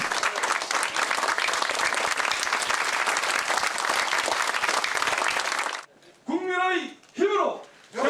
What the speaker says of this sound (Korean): 박수로 함께해 주시기 바랍니다.